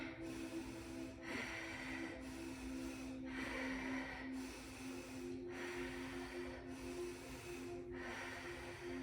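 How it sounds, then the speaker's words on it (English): Deep, slow breaths during a yoga core session, with rhythmic inhales and exhales repeating about every two seconds, close and moderately loud over a steady low hum, no talking. "One more big breath."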